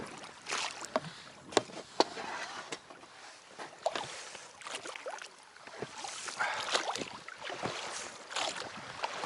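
Small boat crossing a lake in Yakutia during a fishing trip, with water sloshing and rhythmic splashes against the hull, steady and fairly close, mixed with light wind noise and no talking.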